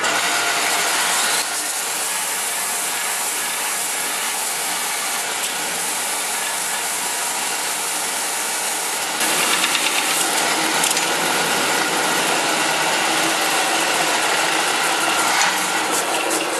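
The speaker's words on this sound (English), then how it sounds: "this is a Rockwell Delta, an older model, flat sandpaper" Steady abrasive whirring of an older Rockwell Delta flat sander working a metal neck gusset, continuous and close, growing slightly louder partway through.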